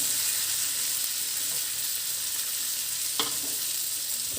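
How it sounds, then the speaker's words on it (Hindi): Onions frying in a pan, a steady bright sizzle running throughout with a single clink partway through. "प्याज वगैरह सब मैं इसमें भूंज लूँगी"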